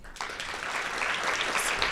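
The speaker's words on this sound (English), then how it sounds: "Please give yourselves a round of applause." An audience at a graduate and professional student research forum awards ceremony bursts into applause and keeps clapping steadily and densely, a full room of hands with no voices heard.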